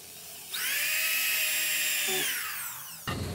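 A power drill whines steadily for about two and a half seconds as it drives a screw into a wooden hairpin table leg, then stops, followed by a short clatter.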